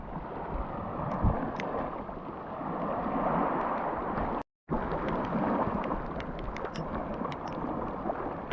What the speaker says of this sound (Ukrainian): Прислухайтесь до звуку доща і плескоту хвиль.